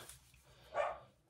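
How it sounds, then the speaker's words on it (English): A single dog bark, moderately loud, rising briefly over a quiet outdoor background. "I am so sorry about the dog."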